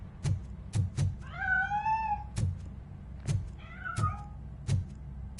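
A cat meows twice in a game set in Robocop Rogue City, moderately loud, between regular dull thumping knocks.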